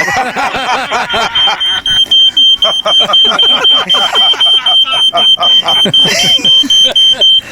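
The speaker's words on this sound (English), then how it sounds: "You bought a smoke alarm." A high-pitched alarm beeps rapidly and repeatedly, loud and close, while voices talk and laugh over it.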